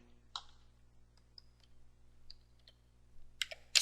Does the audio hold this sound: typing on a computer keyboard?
yes